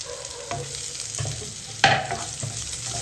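Onion and carrot fry in a pan with a steady close sizzle, broken by several soft stirring scrapes and one sharper clank of a utensil near the middle.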